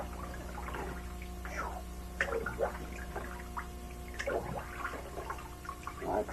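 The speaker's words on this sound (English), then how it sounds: "We're just going to take this thing and slosh it through the water a bit" Paintball pistol parts from a 1987 PGP being sloshed by hand through a pan of water, with intermittent close splashes and gurgles against a steady low hum.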